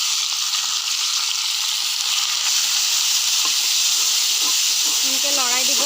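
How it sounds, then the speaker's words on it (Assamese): Small fish frying in a little oil, a steady bright sizzle and hiss running throughout, with faint stirring clinks and a brief whistle-like tone near the end. "মাছ ভাজিছোঁ আই"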